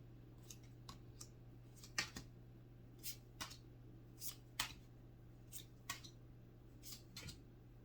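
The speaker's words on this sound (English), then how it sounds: "I'm having a hard time shuffling." A brand-new tarot deck being shuffled by hand, giving a string of crisp, separate riffles and card snaps, some sharper than others, close and fairly quiet over a steady low hum.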